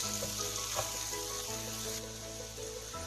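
Masala okra (bhindi) with fried chips being stirred as it fries in a pan, a steady broadband sizzle with faint scraping stir strokes throughout, moderately quiet and close, no voices.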